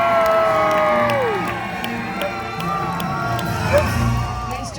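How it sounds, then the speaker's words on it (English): An arena audience at a Universal Studios Hollywood animal actors show screams, whoops and cheers loudly on cue, children's shrill shouts prominent, the crowd roar holding steady then easing slightly. "When I say action, I want you folks to scream and cheer as loud as you can"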